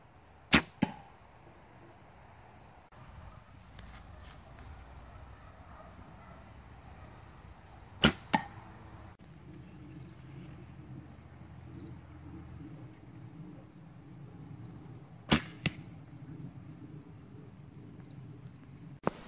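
Arrows loosed from a compound bow during archery practice outdoors, each release a sharp twang and thud; three main shots spaced several seconds apart, with quieter follow-up clicks over a low outdoor background hum and faint insect chirps.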